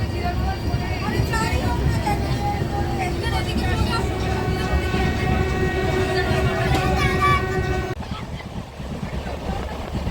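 Howrah-Digha Tamralipta Express passenger train running along the line, a steady loud rumble of wheels and carriage noise with faint horn tones throughout, easing slightly near the end.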